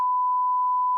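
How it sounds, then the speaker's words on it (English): A single steady, pure censor beep holds one pitch for about a second, loud and alone, covering a spoken name. "it's all going to get beeped after I say that name"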